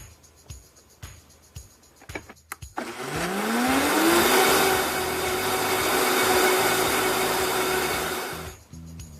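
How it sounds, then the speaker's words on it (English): A few clicks and taps, then a loud blender motor blending chickpeas with a little water whirs up to speed and runs steadily for several seconds before cutting off. "add a little bit of water to help get the blender going"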